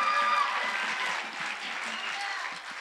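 Applause from an audience at a church service: a steady wash of clapping hands that carries for the whole stretch, moderately loud and fairly even, easing slightly toward the end, with no voice over it.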